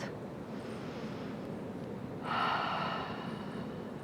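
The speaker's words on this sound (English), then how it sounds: "Another deep breath in, exhale out." A person in a vinyasa yoga session takes a deep breath, a soft breathy inhale followed by a louder, airy exhale near the end, close and alone.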